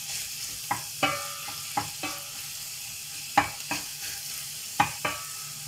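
Meat frying in a pan, a steady soft sizzle close by, broken every second or so by sharp scraping taps of stirring, with no talk.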